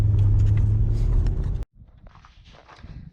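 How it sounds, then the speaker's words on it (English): Toyota Hilux fitted with a V8 1UZ engine, running smoothly on all eight cylinders: a loud, steady low engine rumble close by that cuts off abruptly partway through, leaving quieter outdoor noise. "So she's running on 8 cylinders, which is really good."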